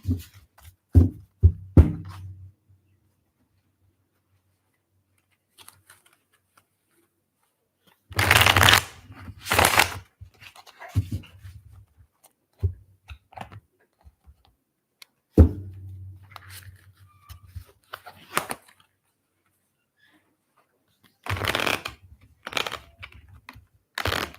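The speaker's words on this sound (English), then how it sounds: "Let me just shuffle the cards for pile two." Cards being shuffled in several separate bursts of quick riffling and flicking, close and fairly quiet, with gaps of silence between.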